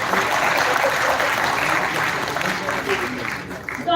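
An audience claps through a college tech festival inauguration, a broad wash of applause lasting several seconds, fairly loud and close, easing briefly near the end before picking up again.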